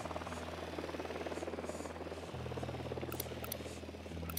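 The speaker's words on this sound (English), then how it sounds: "Drone is airborne." Steady electric buzz of a surveillance drone in Ghost Recon Wildlands, a continuous low hum with a slight pitch shift midway, fairly faint and constant alongside game ambience.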